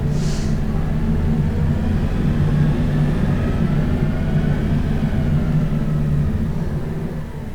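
Simulated bus engine in the OMSI 2 Bus Simulator game, a steady low droning rumble that holds level throughout and eases off slightly near the end, with no talking.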